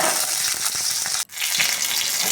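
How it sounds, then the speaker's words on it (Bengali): Chopped green chillies fry lightly in hot oil, producing a loud, dense, continuous sizzle close by that cuts out briefly midway and then resumes at full strength. "চারটে কাঁচা লঙ্কা কেটে রেখেছিলাম ওইগুলোকে আমি ভেজে নেব একটু হালকা ভেজে নেব"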